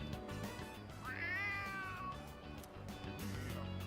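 A stray cat in Persona 3 Reload gives one drawn-out, rising and falling meow, clear and fairly close, over quiet background game music.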